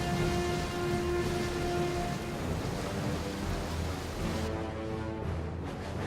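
Heavy torrential rain hisses in a dense, unbroken wash, loud and close throughout, with a faint low tone fading out partway and no voices.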